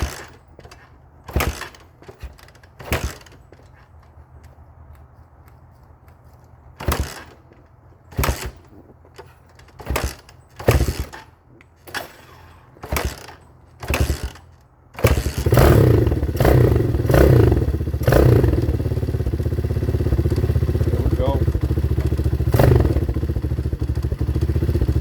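A 2019 Hawk 250cc motorcycle is kicked over with several sharp, separate kick thumps. It then fires and settles into a loud, steady running engine held close by.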